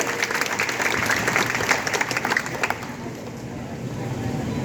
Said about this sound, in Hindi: मैं चाहूंगा कि आपकी तालियां भी उनका अभिनंदन करें